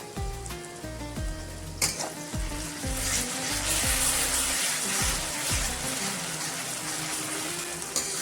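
Ginger garlic paste frying in hot oil for a crispy chicken skin fry, a steady loud sizzle with some stirring clatter and a few brief knocks at the start, no talking.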